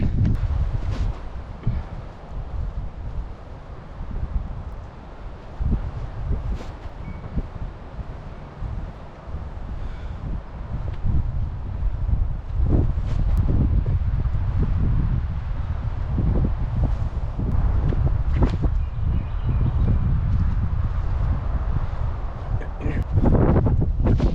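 Outdoors on a disc golf course, gusty wind buffets the microphone with a continuous low rumble and rustle, swelling and easing in uneven bursts throughout.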